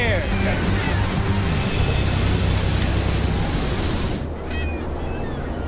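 Ocean waves wash around a fishing vessel at sea, a loud broadband rushing surge mixed with wind noise that drops off sharply near the end.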